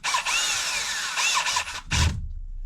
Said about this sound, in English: Get the old drill gun out here. Get some power going behind some tools.